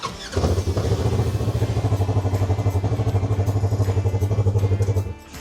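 A 2021 Polaris RZR XP 1000 engine cranks and catches, then runs at a loud, close, steady idle with a pulsing throb before cutting off near the end.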